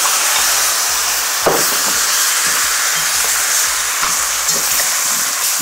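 Oxtail pieces frying in dark browned sugar in a pot for a Caribbean stew, giving a steady close sizzle and hiss with occasional clinks and stirring scrapes, no talking.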